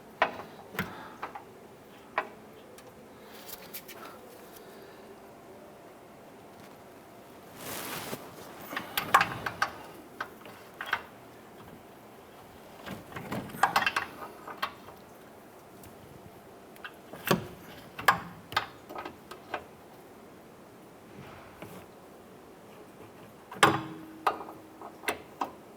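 Wrench loosening a bolt on a front upper ball joint of a 2011-2018 Ram 1500, sparse metallic ticks and clicks with a few bursts of scraping and clanking, close up, otherwise quiet between.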